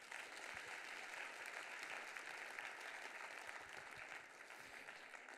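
An audience at an awards ceremony applauds the teaching team with sustained, dense clapping that holds steady throughout, moderately distant in a large room.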